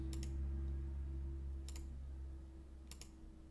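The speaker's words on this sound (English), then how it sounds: "we're going to hit Q on a keyboard" A key on a computer keyboard is pressed in three brief double clicks spaced well apart, faint and close over a steady low electrical hum.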